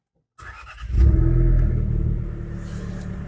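A Fiat Fastback Abarth starts up and settles into a deep, steady exhaust rumble from its sporty exhaust. The sound is loud and close, with a brief rise in revs just after ignition.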